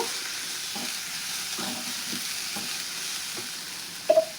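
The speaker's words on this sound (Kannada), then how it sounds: "ಸ್ವಲ್ಪ ಎಣ್ಣೆ ಹಾಕಿ ಹುರಿಬೇಕು ನೋಡ್ರಿ." Cabbage palya frying in a little oil while being stirred, a steady soft sizzle broken by several scraping strokes of a spatula and a sharper clink near the end, close and moderate in level.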